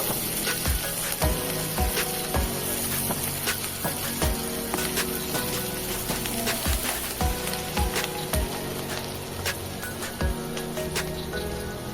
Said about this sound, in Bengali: পেঁয়াজটাকে ভালো করে একটু ভেজে নিতে হবে নরম হয়ে আসা পর্যন্ত